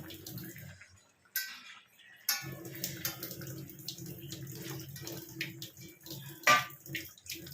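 Water used to rinse a plate is poured into a pot of soupy pasta, heard as quiet, intermittent bursts of splashing and trickling.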